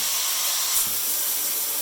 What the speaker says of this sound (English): it's got really good steam pressure